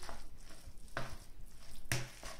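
A spoon scrapes and taps through a mayonnaise-bound pancake filling in a bowl, giving a few irregular soft strokes with two sharper clinks, quiet and close, with no voices.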